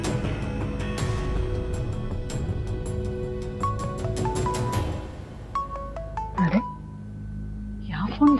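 Mobile phone ringing indoors, a series of short electronic tone beeps stepping in pitch, heard under and after conversation, with a brief exclamation.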